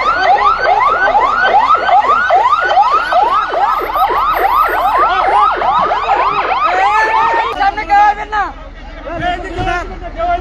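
Wailing emergency siren, rising and falling rapidly and loudly close by, as a fire engine arrives at a burning CNG auto-rickshaw in Chandpur; it cuts off near the end amid a crowd's chatter.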